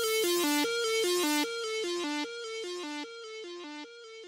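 Synth lead playing a repeating melodic fill in a hyperpop beat, drenched in heavy delay so echoes stack and drift out of pitch; bright, plucky tones step between a few notes, alone and fading slightly over time.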